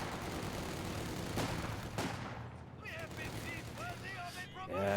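Gunfire and cannon shots in a World War II strategy game as an AEC armoured car fires its cannon: dense, loud battle noise with a couple of sharp blasts, under continuous commentary.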